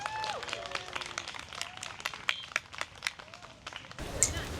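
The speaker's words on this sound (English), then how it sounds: "Please give them a big round of applause." Crowd applause at an outdoor unity walk, scattered claps and cheers at a moderate distance, fairly faint, with voices and a whoop mixed in.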